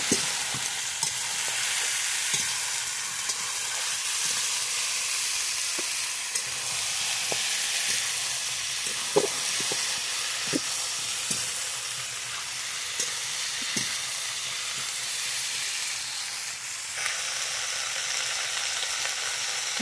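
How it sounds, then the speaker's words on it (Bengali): Ridge gourd and pointed gourd sizzle steadily in a spice paste, a constant dense hiss broken by light scrapes and taps of stirring throughout, with no voices. "মশলাটা কষে এসছে, এবার দিয়ে দিলাম সব ঝিঙে আর পটলটা"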